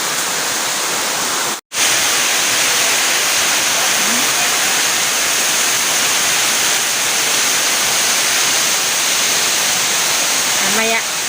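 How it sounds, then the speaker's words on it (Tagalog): Strong wind from a super typhoon rushes as a loud, steady broadband roar, broken once by a brief cut early on, with no voices heard. "Ay, yun ang hangin"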